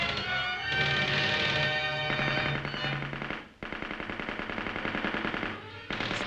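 A Soviet WWII aircraft machine gun fires in long rapid bursts, a loud rattling stream of shots that briefly pauses and then resumes in a sharp, evenly spaced volley.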